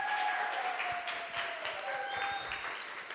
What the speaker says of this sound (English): massive round of applause for Deborah.